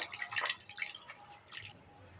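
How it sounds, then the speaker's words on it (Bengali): Cold water poured over fresh chhana cheese curds to rinse them for rasmalai, making a splashing, dripping wash that is strongest in the first second and then thins to a soft trickle; no one speaks. "ঠান্ডা জল দিয়ে দেবো ওপর দিয়ে ভালো করে ধুয়ে নেব"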